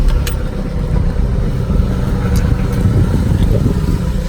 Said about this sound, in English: Now I'm gonna turn the engine on.